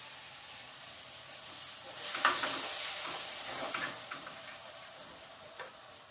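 Ground fresh tomatoes sauté and sizzle in a pan for a brinjal curry, with a steady hiss and scattered scraping stir strokes close by, louder in the middle.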